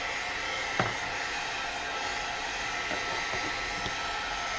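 A heat dryer blows continuously while drying mixed media junk journal layers, a steady loud whooshing roar with a few faint taps and knocks from handling beneath it.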